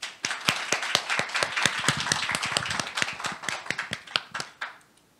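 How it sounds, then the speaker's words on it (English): A conference audience applauds to welcome a speaker, a fairly thin, clattering round of separate claps close by that swells briefly and then tapers off to quiet at the end. "Please welcome him with a warm round of applause."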